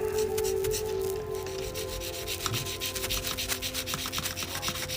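A sponge sanding pad rubs back and forth over the painted body of a 1/24 Tamiya Fairlady 300ZX Turbo scale model, a close, steady scratchy rasp with fast rhythmic strokes and a faint tonal hum underneath.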